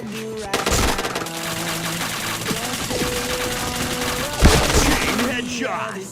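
Rapid automatic gunfire from a video game, with dense overlapping bursts running throughout over a steady game soundtrack, loud and close, with one sharper blast near the end.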